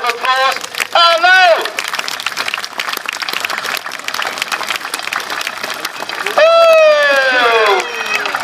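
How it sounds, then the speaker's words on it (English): Audience applause and cheering at a country show pageant, clapping and crowd noise running throughout with loud whooping cheers rising near the start and again toward the end. "Give them a big round of applause."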